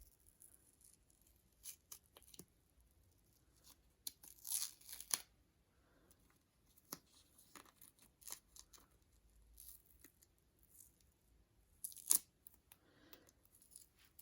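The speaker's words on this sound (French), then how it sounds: "on va couper ça en deux. Prendre un ciseau un peu plus grand." Sharp scissor snips and the crackle of tape being torn, scattered irregular cuts at close range in a quiet room, with no talking.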